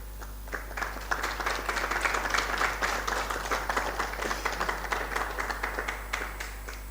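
An audience at a spiritual satsang question-and-answer session applauds in a steady, moderately loud wash of clapping lasting several seconds, over a constant low electrical hum.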